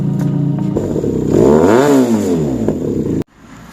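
A QJ SRK twin-cylinder motorcycle with a twisted-elbow resonator exhaust is loud and close, idling roughly, then swelling through one smooth rev and back down before cutting off abruptly.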